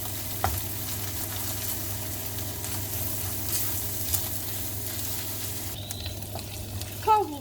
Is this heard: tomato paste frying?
yes